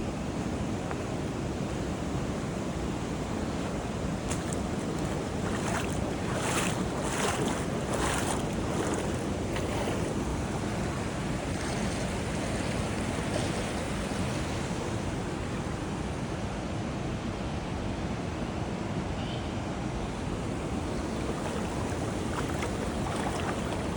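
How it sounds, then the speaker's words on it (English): Steady, loud broadband rush of the waterfall at Havasupai, heard up close as a continuous roar with no voices. "Nobody at the waterfall but me."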